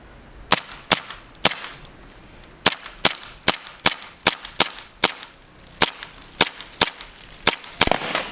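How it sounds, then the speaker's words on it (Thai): A BB pistol fires shot after shot at targets set up outdoors, about sixteen sharp close cracks in an uneven rhythm, some in quick pairs, with no talking. "จะไล่ยิงตัวเป้าที่เราเอามาตั้งไว้นะคะ"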